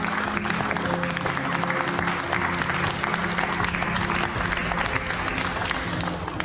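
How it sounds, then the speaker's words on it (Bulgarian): Courtroom-style TV show audience applauds as a lawyer is introduced, a dense steady wash of clapping with faint crowd murmur underneath, continuing evenly throughout. "Аплодисменти за него."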